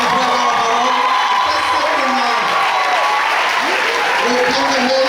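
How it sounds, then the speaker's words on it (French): A church congregation applauds and cheers in a sustained, dense wave of clapping with whoops and shouts, loud and continuous throughout, as a visiting pastor from Cameroon is welcomed. "Et je vais inviter sous vos ovations, sous vos"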